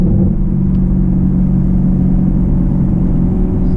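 A Chevrolet Camaro's engine drones loud and steady at a car meet, with a continuous low rumble and faint road noise, close and without pause for the whole stretch.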